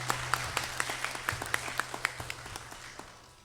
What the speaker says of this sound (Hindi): एक बार माताओं के लिए तालियां होनी चाहिए।